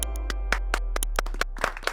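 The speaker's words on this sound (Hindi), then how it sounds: "ताली बजाओ, ताली।" A small group claps for a neighbour at a residential society gathering in a Hindi sitcom scene: a couple of seconds of sharp, uneven hand claps, fairly close and clear, with no talking over them.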